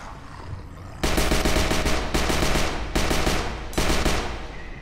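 Rapid bursts of automatic gunfire ring out in the VR zombie shooter HordeZ, four loud sustained volleys separated by short pauses, with no talk over them.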